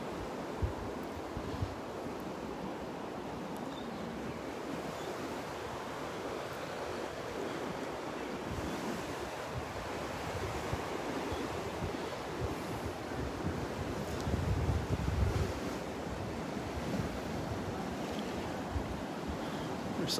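Ocean surf rolls in steadily beside the Naples Pier on a misty, drizzly morning, a constant broad wash of breaking swells with wind rumble on the microphone and a slightly stronger surge midway through.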